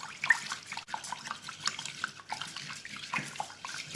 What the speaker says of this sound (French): on va renouveler l'opération comme ceci, 3 fois au moins, jusqu'à ce que l'eau sorte blanche